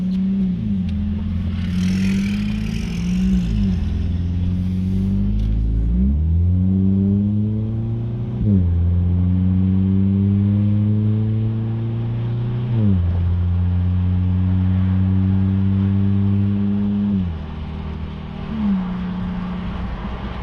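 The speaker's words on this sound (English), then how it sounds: "Just those shifts, when it's a clean shift, ooh, it sounds good" A modified Hyundai Veloster's engine revs hard and climbs through several gear shifts, pitch rising then dropping at each change, loud and close with no talking over it.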